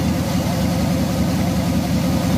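A 5.3 LS V8 in a Firebird idles loud and close through a stainless dual exhaust with no mufflers, a steady, deep rumbling burble that stays constant throughout.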